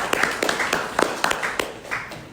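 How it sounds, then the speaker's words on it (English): A small audience claps for a few seconds at a real estate talk, sparse individual hand claps landing at an uneven pace rather than a full roar of applause. "So let's give my wife a round of applause"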